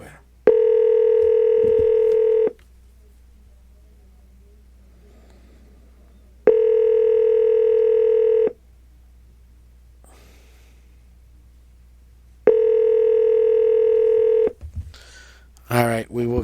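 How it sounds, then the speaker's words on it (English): An unanswered call on a paranormal radio show rings three times, each steady two-second tone separated by quiet gaps. A brief breathy vocal sound follows the last ring. "The phone's ringing, but we're not getting anywhere."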